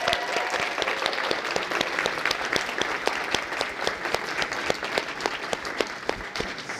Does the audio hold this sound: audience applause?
yes